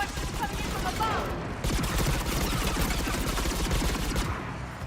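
Mass Effect 3 combat gunfire against Geth: sustained rapid automatic shots in dense, steady bursts for several seconds, loud and close, with voice faintly mixed underneath.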